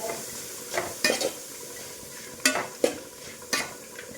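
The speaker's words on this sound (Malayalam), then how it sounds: "നന്നായി ഇളക്കുക." Fried rice with melted butter stirred in a pan: a steady sizzle under repeated scraping strokes of a spatula, irregular clatters spaced through the clip, close and fairly quiet.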